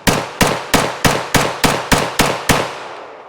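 Nine sharp gunshots from an HK Mk 23 .45 pistol fired at a range, spaced evenly about a third of a second apart, each loud crack trailing off in a short echo.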